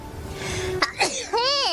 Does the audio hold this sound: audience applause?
no